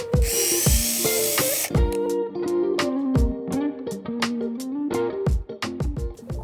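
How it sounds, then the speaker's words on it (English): A power drill bores holes into severely compacted lawn soil near a driveway path, its whine rising and falling in bursts with rattling knocks and grinding, close and steady. "I'm drilling about 3 to 4 inches deep, a few inches apart."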